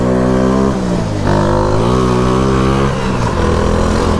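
A Shineray 49cc mini motorcycle engine revs loud and close, its pitch rising and falling in steady continuous drone across the whole stretch.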